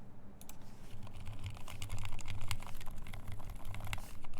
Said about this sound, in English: people are saying it's a comfy typing experience